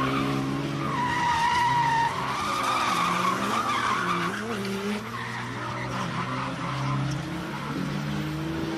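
BMW cars, a hatchback and an E46, drift around a tight track, their tires squealing and skidding in long wavering screeches over engine roar, while a voice talks over the action.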